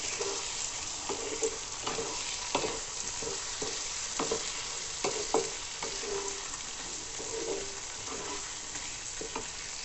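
Potatoes fry in oil with ground spices in a pan, a soft steady sizzle broken by repeated scraping stirs of a utensil, with no talk.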